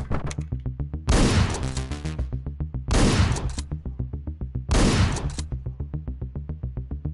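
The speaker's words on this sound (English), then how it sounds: "Shotgun." A shotgun fires in the video game Hotline Miami, with three loud, evenly spaced blasts cutting through pulsing, rhythmic game music.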